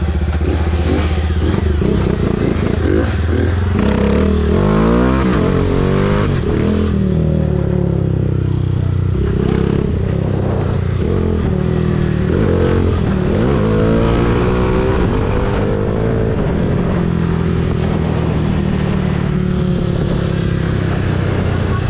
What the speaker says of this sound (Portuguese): Essa moto aí tá muito boa.